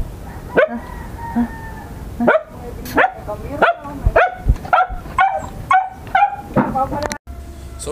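A dog barks repeatedly close by, a string of sharp barks and yips with short gaps, some whimpering tones between, loud and clear.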